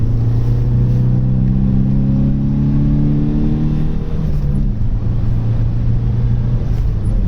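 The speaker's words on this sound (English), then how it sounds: "He just came absolutely tanking past me there" A Mercedes with LED headlights overtakes at speed in winter, its loud engine drone sweeping down in pitch as it passes close by, over steady road and cabin noise with no talk.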